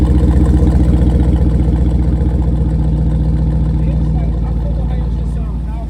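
Jeep SRT with a 6.4 engine and straight exhaust idles up close with a deep, steady, throbbing rumble that fades slightly over a few seconds.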